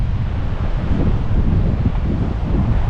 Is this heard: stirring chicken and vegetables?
no